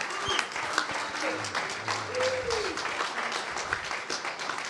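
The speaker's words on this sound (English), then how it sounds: "everybody's clapping except my wife and her sister" An audience applauds at a bookstore event, a moderate wash of clapping with a few tonal voice-like sounds rising through it, fairly even in level across the stretch.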